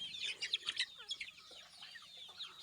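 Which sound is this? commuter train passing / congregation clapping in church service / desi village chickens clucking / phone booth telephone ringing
desi village chickens clucking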